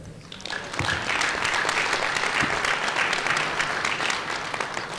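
Sustained applause fills a weekly assembly of the MNE, a dense, steady wash of many hands clapping at close range for several seconds with no talk over it.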